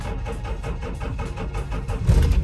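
A Toyota Land Cruiser HZJ77 (LC70) engine, apparently just started, settles into a steady, close, rumbling idle with a regular low pulse that swells slightly louder near the end. No voices are heard.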